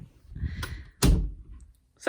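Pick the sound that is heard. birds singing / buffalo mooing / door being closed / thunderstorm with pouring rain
door being closed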